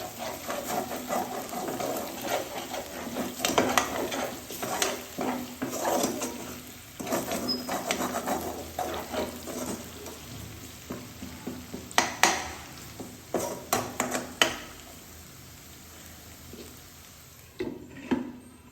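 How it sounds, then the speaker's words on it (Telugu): Onions fry in a pan until soft, with a low sizzle beneath repeated scraping stirs that come in irregular bursts, close but fairly quiet. "ఉల్లిపాయలు గట్టిగా లేకుండా మెత్తబడేదాకా చేసి వేపు చేసుకోవాలి"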